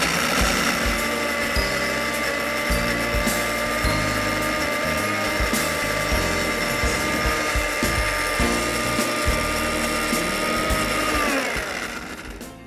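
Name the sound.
blender mixing cocoa butter, low to high speed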